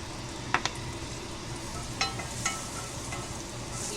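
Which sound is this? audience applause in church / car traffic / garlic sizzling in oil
garlic sizzling in oil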